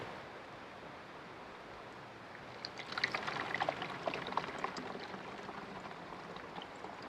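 Water pours and flows quickly through an urban riparian model, a soft rushing trickle that swells partway through and stays steady, close and fairly quiet, with no talking.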